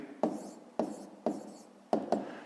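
Numbers being handwritten for a fifth-grade maths exercise, heard as five sharp pen or pencil strokes tapping and scratching on paper, close and clear with no talking.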